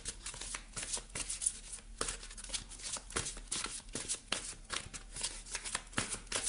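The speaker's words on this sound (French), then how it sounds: "On va aller chercher une carte des ailes de la sagesse." Oracle cards shuffled by hand for a tarot-style reading, a rapid series of crisp riffling and slapping strokes, close and steady, with no talking.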